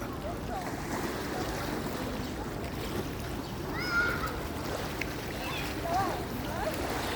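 A boat's low engine drone carries across open lake water in rural Switzerland, steady under wind and lapping waves, with faint bird calls in the distance.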